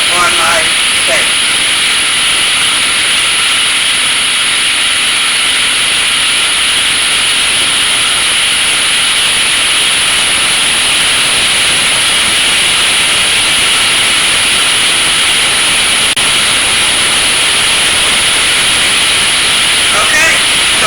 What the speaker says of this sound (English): right now I just have my steaks cooking